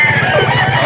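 Rooster crowing and clucking amid the bustle of a rainy pet market in Bocaue, a short close burst over steady low background noise.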